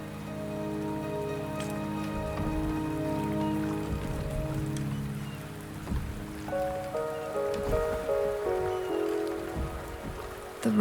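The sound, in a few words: rain in the video game Wuthering Waves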